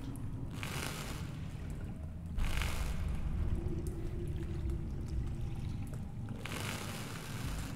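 A boat moves across water in the VR horror game The Exorcist: Legion, with steady low rumbling and periodic splashing washes, moderately loud and with no speech.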